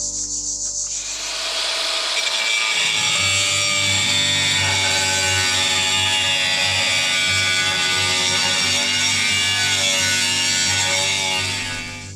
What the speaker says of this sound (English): cut off this overlapping edge of the first tile with my little hand grinder